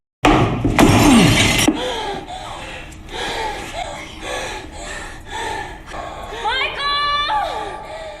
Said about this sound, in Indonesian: kaca akhirnya pecah, memungkinkan udara segar masuk ke dalam ruangan